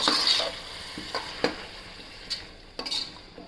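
Chickpeas, onions and spices for a dried fish curry sautéing in a pan, with steady stirring and scraping plus a soft sizzle, punctuated by a few sharp utensil clicks against the pan, close by with no talk.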